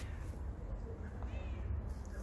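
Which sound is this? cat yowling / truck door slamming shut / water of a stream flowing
cat yowling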